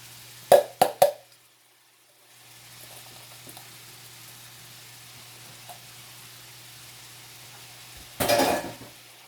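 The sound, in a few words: onion sizzling and being stirred in pan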